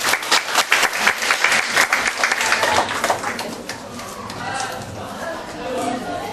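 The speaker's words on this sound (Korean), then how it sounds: "박수를 한 번 더 쳐야 될 것 같습니다." Audience clapping at a Korean family worship school discussion session as a group comes forward, dense and steady at first, then thinning into a lighter patter with faint voices underneath.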